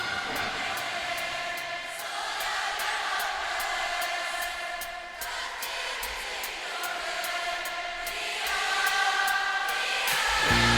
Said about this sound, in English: hearing the crowd sings like that